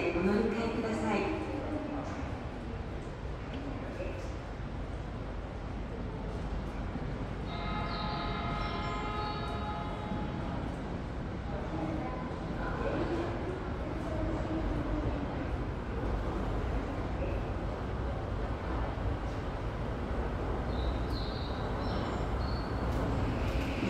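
A Toei 5500-series subway train bound for Haneda Airport idles at Asakusabashi Station on the Asakusa Line with a steady rumble, while a recorded Japanese announcement speaks over the hum and a brief chime sounds.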